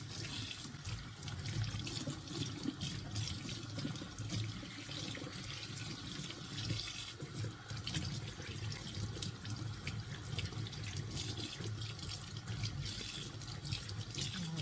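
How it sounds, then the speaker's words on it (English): Green onions are rinsed under a running kitchen tap, a steady, fairly quiet stream of water splashing continuously into the sink. "I'm going to rinse them off really well"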